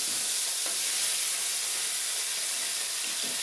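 Rohu fish pieces shallow-frying in oil make a constant bright sizzle and hiss up close, unbroken for the whole stretch, without speech.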